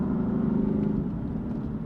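A BMW F82 M4, a big heavy car, rumbles along at a steady, moderate level, its low engine drone and road noise constant throughout.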